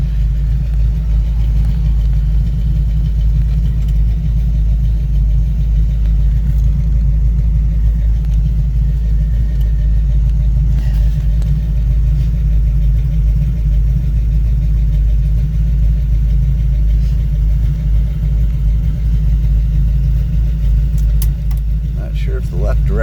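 A four-speed car with Edelbrock Pro-Flow 4 fuel injection cruises along with a loud, steady engine rumble and drone that continues unbroken from start to finish, close up from inside the cabin.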